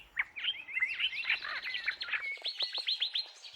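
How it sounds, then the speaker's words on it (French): Close, lively African birdsong: a rapid series of bright chirps and whistled tweets, ending in a quick repeated run of notes. "interrompu par les oiseaux."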